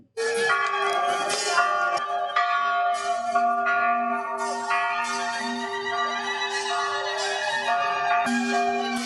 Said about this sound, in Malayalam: ഏഴ് വർഷങ്ങൾക്ക് ശേഷം ദേവാലയം മണിമുഴങ്ങി